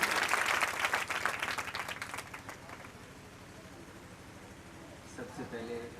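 An audience at a motivational talk at an institute in Malakheda applauds teacher Gajendra ji, loud clapping at first that fades after a few seconds, followed by quiet room tone and a voice starting to speak.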